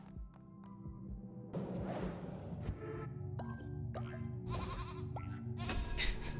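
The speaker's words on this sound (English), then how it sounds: "There was like a goat noise or a sheep noise." A goat or sheep bleats in a cute, peaceful video game during a sermon scene, mixed among layered game music, chimes and whooshing effects at steady volume.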